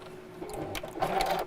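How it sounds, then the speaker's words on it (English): Short burst of sewing machine stitching across the top of a bag, a close, quick whirring run with needle clatter, heard only briefly. "I'll just sew across the top of that just to hold it in place"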